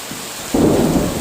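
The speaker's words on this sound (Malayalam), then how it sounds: "ഇടി വെട്ടുന്നു" Thunder rumbles during a rainstorm, a sudden low roll rising over steady rain, brief and fairly near, with no talk.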